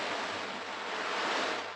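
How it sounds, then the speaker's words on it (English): An old ocean drum filled with dried chickpeas, dried peas or small pebbles, rolled round to make a steady, continuous surf-like rushing wash that swells slightly toward the end, heard alone. "this is an old drum, and it's filled with dried chickpeas and old dried peas or small pebbles"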